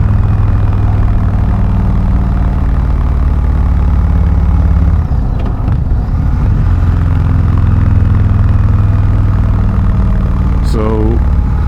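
A 2019 Indian Chieftain Limited motorcycle engine running with the rear cylinder firing, a steady loud close idle rumble with a brief dip midway and a rising whine near the end.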